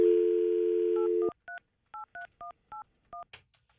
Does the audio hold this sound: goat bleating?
no